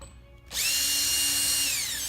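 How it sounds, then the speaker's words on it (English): Power drill boring a hole in a wooden board, starting abruptly after a quiet moment and holding a loud, steady high-pitched whine close by. "So you drill hole there."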